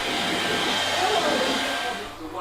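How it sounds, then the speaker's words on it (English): A hairdryer blows steadily on motocross bike stickers in a pit area, a loud continuous whooshing hum up close, with faint background chatter. "Michaela's now just using a hairdryer."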